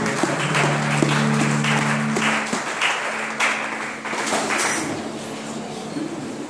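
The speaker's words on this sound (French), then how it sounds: "Est-ce que nous pouvons acclamer Dieu?" Congregation in a French-speaking church bursts into applause and acclaim for God, a dense wash of clapping and cheering that swells, holds and gradually thins over several seconds.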